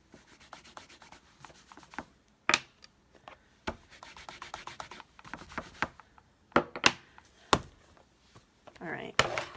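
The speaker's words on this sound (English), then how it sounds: "I forgot I do need to clean my stamps because some of them I'm using again" Rubber stamps being scrubbed clean on a Stampin' Scrub pad, with repeated short rubbing strokes and scattered sharp taps and knocks, a voice talking intermittently underneath.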